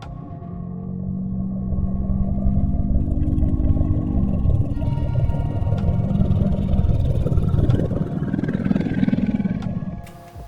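A kaiju dinosaur in Roblox Dinosaur Simulator lets out a long, deep, drawn-out call that swells and wavers over about ten seconds before cutting off, loud and unaccompanied by speech.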